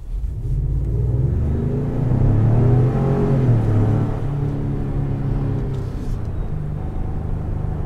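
A 2019 Ford Expedition accelerates hard from a standing start, its engine building into a loud, deep, continuous roar with a strong low rumble that swells and then holds steady as the SUV pulls away.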